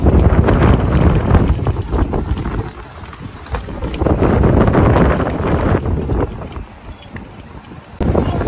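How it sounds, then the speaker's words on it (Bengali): Strong afternoon sea wind at Kuakata beach buffets the microphone, a loud steady roar with gusts throughout and no talking. "বিকেলের সময় নিচে প্রায় আসতে বাতাস এবং অনেক ভালো লাগে"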